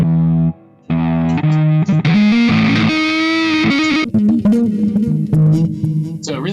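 An electric guitar played through a Marshall JCM 800 amplifier rings out loud and close, with sustained notes and chords, brief gaps and bright harmonics, heard alone without speech.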